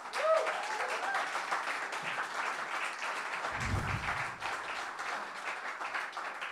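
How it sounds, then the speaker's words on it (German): A studio audience at a kitchen talk show applauds a guest, a steady dense wash of clapping held at moderate level from start to finish. "Hier ist Christoph. Applaus für ihn."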